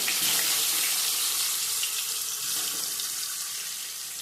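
Eggs fry in hot oil with a bright, steady hiss and sizzle that stays loud throughout and eases off slightly near the end, with no talking.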